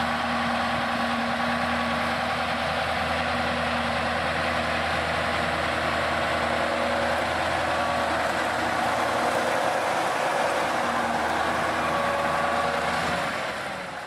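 A KrAZ-255 six-wheel Soviet truck grinds through deep mud off-road, its heavy diesel engine droning loud and steady close by, with a constant low rumble and strained whine throughout.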